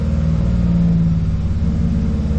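A repaired pickup truck's engine idles steadily with a low, even rumble that stays close and constant, a wrench light and check engine light still showing; nobody speaks.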